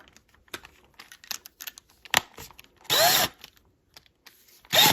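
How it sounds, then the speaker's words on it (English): A power drill driving a screw while installing a door lever whirs in two short bursts, the first about half a second, the second brief at the end, between quieter clicks and handling noises. "I'm going to use a drill."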